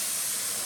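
Steam hissing from a home cooking pot on the stove as a mother prepares rice, dal, fish curry and vegetables, a loud steady broadband hiss, brief and continuous.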